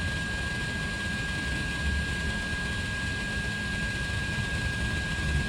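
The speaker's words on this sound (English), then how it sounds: "So I have this heat gun on the panel to get it up to temp" Heat gun blowing steadily on a car body panel during paintless dent repair, a constant loud roaring whoosh with no pauses, heard alone without talk.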